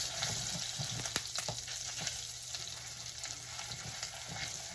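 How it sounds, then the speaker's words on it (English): Tomato paste being stirred into a sizzling peanut butter stew, a steady frying hiss with soft scraping strokes and a few sharp taps of the spoon against the pot, close and unaccompanied by talk. "Just stir that around and let it dissolve."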